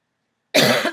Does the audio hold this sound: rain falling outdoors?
no